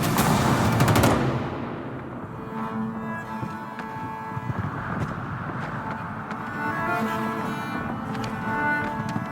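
Siege guns at Yorktown in 1781 fire into British lines, opening with a loud booming blast that rolls away, followed by a rumbling mix of distant gunfire and battle noise.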